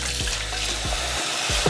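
Tap water running steadily into a Nespresso Vertuo water tank as it is rinsed at a kitchen sink, a continuous close splashing wash with a few brief bumps of the plastic tank.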